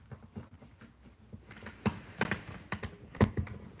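Typing on a computer keyboard, a run of light irregular keystrokes that starts soft and grows into denser, louder clusters of taps, heard close with no talking.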